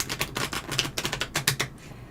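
A tarot deck is shuffled close up, giving a rapid, dense flurry of crisp card clicks that runs for under two seconds and then stops.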